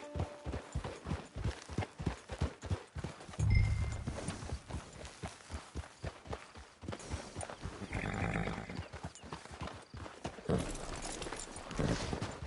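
Horse hooves clip-clop in Red Dead Redemption 2, a steady run of close hoofbeats that slows and pauses midway before resuming, with only light background sound.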